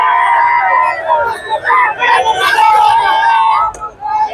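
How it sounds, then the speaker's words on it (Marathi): Sharad Pawar faction NCP party workers celebrate an election win in Wadi, a loud crowd of cheering and whooping voices with scattered yells filling the air continuously. "राष्ट्रवादी काँग्रेस पार्टी शरद पवार गटाच्या कार्यकर्त्यांमध्ये जल्लोषाचा माहोल या ठिकाणी आपल्याला दिसत आहे"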